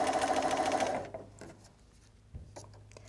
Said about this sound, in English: this is my quick way of sewing seams round all four squares without having to break the thread